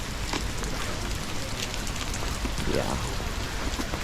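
Steady rain pours outdoors at Tivoli amusement park during Halloween, a dense, continuous hiss with scattered close droplet hits that stays loud for the whole stretch, while a voice briefly speaks over it.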